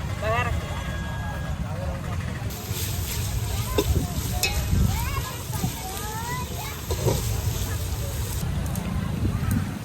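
Spices sizzling in a tempering on a freshly built stove at an outdoor country-chicken feast, a rough, continuous fry under frequent nearby talking and background bustle.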